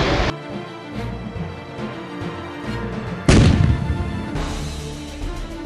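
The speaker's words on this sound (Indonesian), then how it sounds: "Ledakan keras yang terdengar itu adalah ledakan pukulan" A loud blast at a TNI AD Indonesian army combat demonstration in Baturaja, bursting suddenly midway over a continuous rumble of distant firing and booms from the exercise field.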